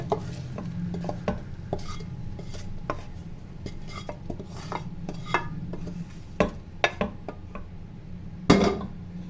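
A spoon stirs and scrapes around a metal pot as a tempering is poured into cooked mash and chana lentils, with clinks and knocks at an irregular pace and a brief louder clatter near the end.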